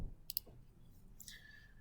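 A few soft, quick key presses on a calculator keypad, clustered together and faint against a quiet room background.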